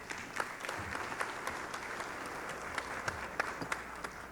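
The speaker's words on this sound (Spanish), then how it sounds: "Un aplauso, por favor, para Melissa." Dense audience applause at an education innovation event, a steady wash of many hands clapping at moderate distance with a few sharper claps standing out, no talking over it.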